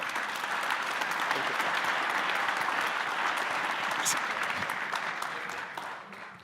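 A conference audience applauds steadily in a large hall, a dense, even wash of clapping that holds for several seconds and then begins to fade.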